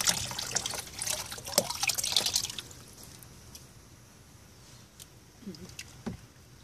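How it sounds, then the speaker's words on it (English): Water splashes and trickles out of the bottom of a toddler's blue toy shovel for a couple of seconds, then settles into a few faint drips in a quiet outdoor setting. "Hold it up and let the water come out the bottom."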